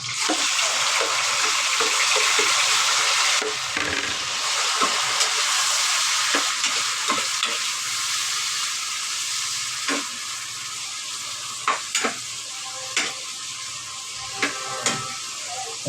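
Onion, chili, tomato and ginger sauté in a pan with a steady loud sizzle, broken by scattered clinks and scrapes of stirring throughout.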